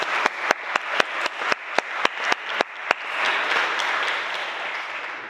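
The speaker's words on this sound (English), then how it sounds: "Let's give Felix a round of applause, please." A school prize day audience applauds a student's award, opening with a string of distinct single claps before swelling into sustained, dense clapping from a large crowd that carries on to the end.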